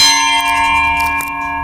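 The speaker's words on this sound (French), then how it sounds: "on va lancer la cloche de la journée numéro 3" A bell is rung to open day three during a group stay on a mega yacht in Miami, giving one loud, close, ringing strike whose long sustained tone fades slowly.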